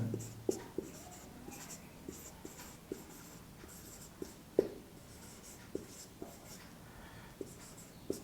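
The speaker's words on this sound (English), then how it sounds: "Now we write this." Chalk or marker taps and strokes on a board during a complex analysis lecture on triangles, a steady run of short scratchy writing sounds with sharp clicks, fairly close, no talking over it.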